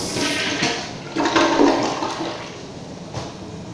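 A 2017 Kohler Cimarron one-piece toilet with a 1.28-gallon flush rushes and gurgles close by, swelling midway and then draining away into a softer trickling swirl.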